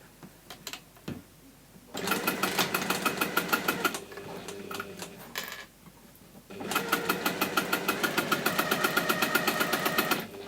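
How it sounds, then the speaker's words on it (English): Sewing machine stitching a plastic pencil case in two close, steady bursts of rapid rhythmic clatter, separated by brief quiet pauses with small handling sounds, and no talk. "I am just sewing it centrally"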